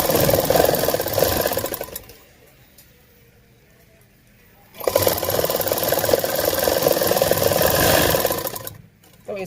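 Sewing machine running in two fast, steady bursts with a pause between, stitching elastic into a waistband, loud and close with a brief quiet gap.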